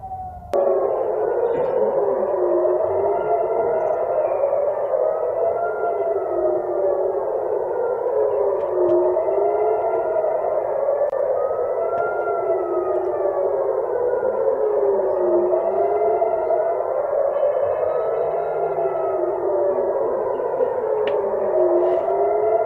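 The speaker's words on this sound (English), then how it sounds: "this is just air raid siren so far" Air raid siren in Israel wailing continuously, its pitch rising and falling in slow regular cycles, loud and steady with no talk.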